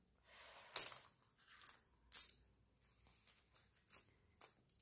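Coins clink and jingle as they are handled, a few sharp metallic taps and small rattles spaced irregularly and heard up close against near silence.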